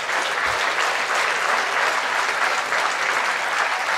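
A crowd applauds at a 2024 New Year's address in Vigneux-sur-Seine, honoring public servants; dense, continuous clapping holds steady throughout with no speech over it.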